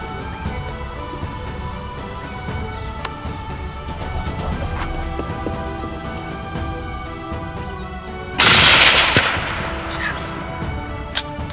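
A single loud rifle shot cracks out during an African hunt for warthog and nyala, bursting suddenly over steady outdoor wind noise and then trailing off.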